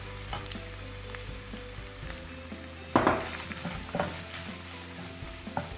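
Finely chopped onions with a pinch of salt sauté and sizzle in hot oil in a pan, stirred with a spoon that scrapes and clinks now and then, with a few sharper knocks partway through.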